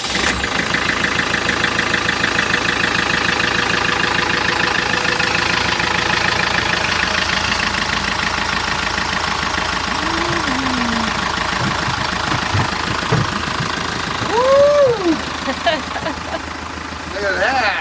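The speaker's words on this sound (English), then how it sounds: "And now we're finally able to fire up the engines." A sailboat's twin engines: one turns over and settles into a steady, rumbling idle during a sea trial, with people talking nearby and the second engine joining later.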